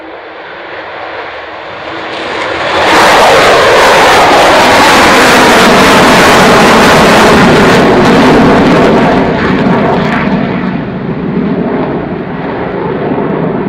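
A Falcon jet roars down the runway on takeoff at an air display, its engine noise building from a distant whine into a loud, sustained broadband rush that holds steady and then eases slightly as it climbs away.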